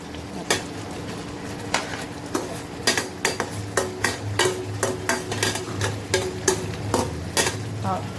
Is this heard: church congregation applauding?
no